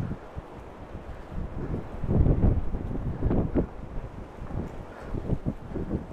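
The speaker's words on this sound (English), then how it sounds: "Oh, it is strong, this wind." Strong wind buffets outdoors at a nature reserve on a walk, a continuous rumbling roar against the microphone with gusty surges and no talking.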